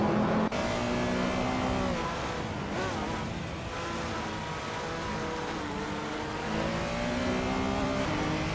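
Racing cars, including a 1993 Peugeot 405, roar past with steady engine drone and rising, shifting revs, several engines overlapping loudly and continuously with no talk.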